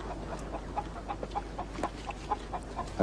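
Chickens cluck in a permaculture food garden, a series of short, evenly spaced clucks at moderate distance over a steady background hiss. No voices.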